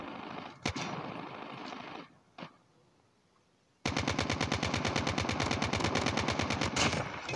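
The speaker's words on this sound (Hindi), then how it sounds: "इतने जोर से कौन चला रहा है? कौन सी बंदूक ले ली भाई आपने?" Gunfire in a Search and Destroy match on the Highrise map: a couple of sharp single shots, a short pause, then a loud, sustained rapid-fire automatic burst close by.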